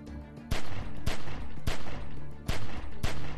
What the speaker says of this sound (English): Remember, don't stop shooting.